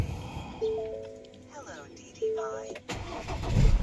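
A Ford Everest 2.0 bi-turbo diesel 4WD starts up: a few electronic tones ring first, then the engine catches near the end and swells into a loud, rough rumble.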